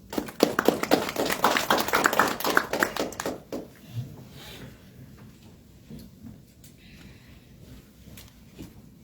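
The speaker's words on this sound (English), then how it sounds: "Please give him a round of applause." A round of applause at a report launch in a hotel hall, brisk clapping for about three and a half seconds that then stops, leaving faint room noise and scattered small taps.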